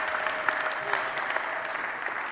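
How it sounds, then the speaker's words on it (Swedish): A church congregation applauds after a song, a steady wash of clapping that fills the space at moderate volume, with no voices over it. "Man får applådera i kyrkan även när man hör en sån här sång."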